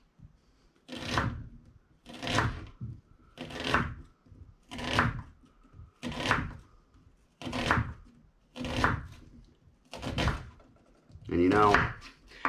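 Knife chopping an onion into thin slices on a board, with about nine evenly spaced, loud, close thunks and cutting strokes in a steady rhythm.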